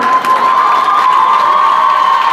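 A crowd at a public event in Charkhi Dadri cheers and applauds loudly and continuously, a dense roar with a steady tone running through it.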